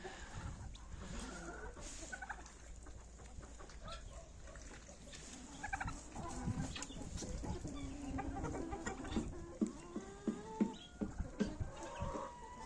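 Hens and a large rooster cluck and murmur nearby in a small farmyard, with a run of sharper clucks toward the end and faint background noise.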